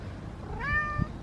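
A single clear, drawn-out cat meow close by, rising then falling in pitch over a soft background hum.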